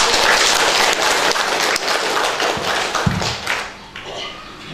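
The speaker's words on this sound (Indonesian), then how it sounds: "Mari kita tepuk tangan untuk" Audience applause at a parish ceremony for Santa Anna medal recipients, a dense patter of clapping that carries on steadily with scattered sharper taps and fades slightly near the end.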